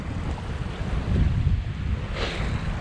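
Wind and choppy East Coast waves around a Tomahawk yacht sailing from Hamford Water to Brightlingsea, a loud rushing gust over sloshing water against the hull, with heavy wind buffeting on the microphone.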